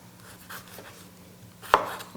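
A knife trims the tough peel from a piece of fresh ginger on a cutting board, making several soft, close cuts and then one sharper chop near the end, with no talking.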